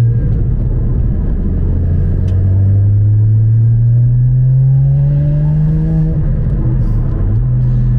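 Porsche Cayman GT4 981 revs up on a wet road in sport mode, a loud close engine drone climbing steadily in pitch, then dipping briefly as it shifts and pulls again.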